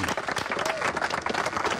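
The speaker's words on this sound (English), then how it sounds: "What about a round of applause for Jack?" A small outdoor crowd claps and cheers for a man named Jack during a live weekend weather broadcast at Majura Park, steady close applause throughout with a voice rising over it.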